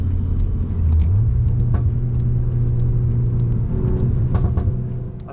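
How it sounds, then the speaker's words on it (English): Exhaust of a 2024 Volkswagen Golf R in Nürburgring mode, a steady loud engine drone that steps up in pitch early on as the car accelerates through tight corners, with faint pops and crackles scattered over the roar. "the exhaust in this mode, specifically in Nürburgring mode, is really chatty"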